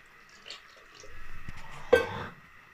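Water being poured into a cooking pot of chicken nihari, a brief splashing gush lasting under a second after some quieter kitchen clatter, close and fairly loud.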